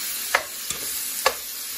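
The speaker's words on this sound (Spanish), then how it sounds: "Vamos a revolver y en cuanto el tomate suelte su jugo" Tomatoes seasoned with black pepper fry in a pan under a steady sizzle, broken by three quick scrapes of a stirring utensil, close and clear with no voices.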